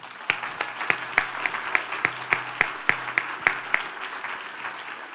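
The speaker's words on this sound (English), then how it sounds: "Now you can applaud." Audience applause at a media access awards ceremony, with sharp individual claps standing out in a regular rhythm over a softer crowd of clapping, fairly distant and moderate in level.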